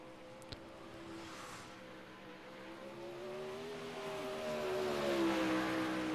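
A 360 sprint car in an ADS series race runs on the Williams Grove dirt track. Its engine makes a steady, buzzing drone that climbs in pitch and grows louder toward the end, with no voices.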